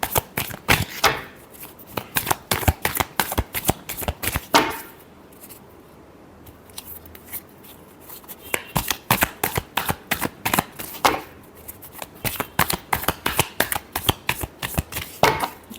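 Tarot cards shuffled by hand in quick riffling bursts, close and crisp, with a pause of a few seconds between two long runs of rapid flicking.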